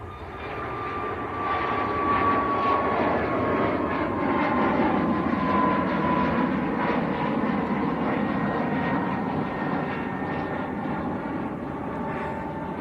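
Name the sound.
Ryanair airliner at Manchester Airport, bound for Brussels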